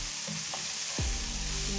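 Minced meat frying in a pan for an omelette, a steady sizzle running throughout with a couple of brief stirring scrapes, fairly faint and without talk.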